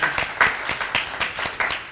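Brief burst of audience clapping at a community consortium meeting, scattered hand claps in uneven pulses rather than a full ovation, fairly soft and ending quickly.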